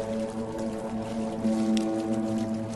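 A ship sinking beneath the waves in the game Sunless Sea, a low, droning underwater groan with sustained tonal hums and faint bubbling, moderately loud and continuous without speech.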